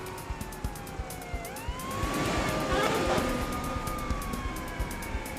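A police siren on an approaching police car wails and sweeps up and down in pitch, growing louder as it approaches, with a rapid ticking pulse running underneath.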